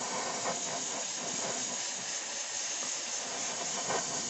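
A steady, continuous hiss of white spray paint from an aerosol can onto a 1/35 scale model boat hull, held close and unbroken for several seconds.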